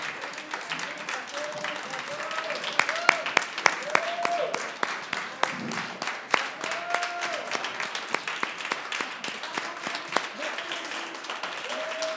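An audience applauds poets at a Fernand Nault tribute, with individual claps sharply distinct over a lighter bed of clapping, while voices murmur and talk intermittently throughout the twelve seconds.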